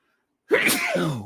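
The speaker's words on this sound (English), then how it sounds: "that sneeze took a long time to come out" After a moment of silence, one loud, close sneeze bursts out and trails off in a breathy, drawn-out release.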